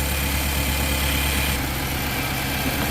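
A Nissan NV 3500 engine idles steadily nearby with a slightly uneven, rough-running cylinder, a constant low rumble and vibration throughout with no talking.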